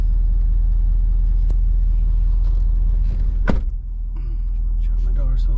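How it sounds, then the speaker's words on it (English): A 2017+ Ford Super Duty with the 6.7 Powerstroke diesel engine idles with a steady low rumble. Near the end a sharp click and a door-like thump break through, followed by softer mechanical whirring. "So that's truck running on."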